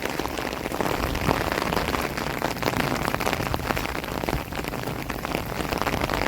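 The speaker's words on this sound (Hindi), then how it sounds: "गांव में बारिश का खूबसूरत मौसम।" Steady rain pours down in a village, a dense hiss of drops pattering on surfaces close by, continuous and even throughout.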